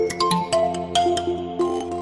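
A custom-made mobile phone ringtone plays a bright, melodic sequence of short electronic tones in a steady rhythm, loud and close with no talking.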